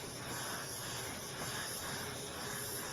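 Aeropro A/610 and Sagola DPC spray guns lay down a coat of clear finish, giving a steady, even hiss of atomized spray that holds at a constant low level without breaks or talk.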